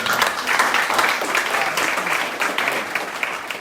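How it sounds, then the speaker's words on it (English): A crowd applauds continuously, a dense wash of clapping that holds steady throughout, fairly loud and nearby. "Give one more round of applause for everybody."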